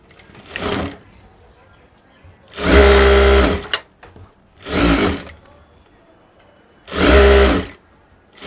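A sewing machine stitches a trouser seam in four loud bursts, each lasting about a second, separated by quiet pauses.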